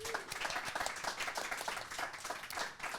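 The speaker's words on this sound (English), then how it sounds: "I'd like to give them all a big round of applause." A live podcast festival audience claps in steady, dense applause that continues throughout, fairly even in loudness without any voices on top.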